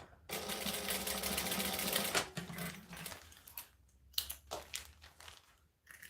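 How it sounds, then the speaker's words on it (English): A sewing machine stitches down a decorative accent, a fast continuous motor whir running close for about two seconds, then stops and gives way to short bursts of stitching, clicks and fabric handling. "So I'm just going to stitch it down."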